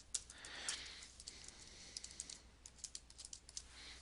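Quiet clicking of keys on a computer keyboard, a light, uneven patter of individual keystrokes close by in an otherwise still room.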